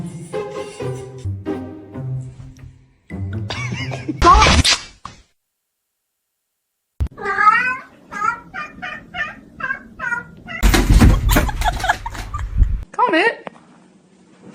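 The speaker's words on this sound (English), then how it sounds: "he closed the cat in the kennel" A cat shut inside a kennel meows in several short, loud, close cries, mixed with a person's excited talking, a couple of sharp thumps and rustling.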